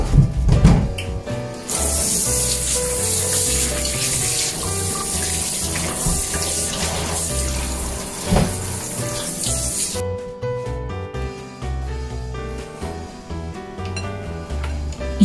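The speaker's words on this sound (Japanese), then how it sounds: "まずはさつまいもをしっかり洗っていきます。" Sweet potatoes scrubbed under a running kitchen tap, a steady close splash of water into the sink lasting several seconds before cutting off, followed by light handling clatter.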